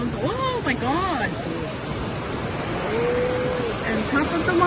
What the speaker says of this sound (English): And top of the waterfall!